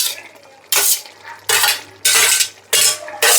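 Fried okra tipped into a pan of curry, with a spoon or spatula scraping and clinking against the metal in about five regular, loud strokes separated by short pauses.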